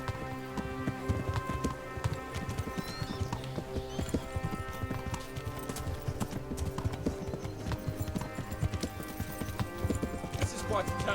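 Horse hooves clip-clop in a steady trotting rhythm while riding in Kingdom Come: Deliverance, continuing throughout under people talking.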